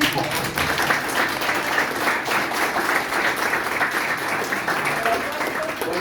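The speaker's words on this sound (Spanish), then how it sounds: "Un aplauso para Pili." A book-launch audience applauds steadily for a prize winner, many hands clapping in a dense, even wash of sound that holds for several seconds.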